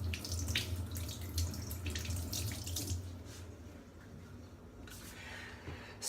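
A capsicum is washed under a running kitchen tap, a quiet, steady stream of water splashing and trickling with faint handling noises, easing off toward the end.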